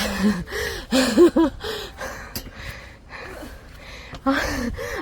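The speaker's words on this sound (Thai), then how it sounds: "เสียงหายใจแบบแรงมาก" Heavy, labored breathing with gasps and puffs after climbing a tall temple stupa at an old temple in Ayutthaya, repeated breaths close to the mic with short voiced sounds between them.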